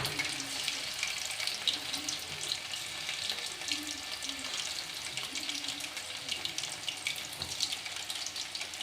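Small boneless chicken pieces deep-frying for pakodi, a quiet, dense, bubbling sizzle that holds steady throughout with a few faint knocks and no talking.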